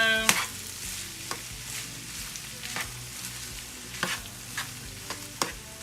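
A cooked rice mixture being stirred in a frying pan: a soft constant sizzle with regular scraping strokes of the spoon, close and alone without talk.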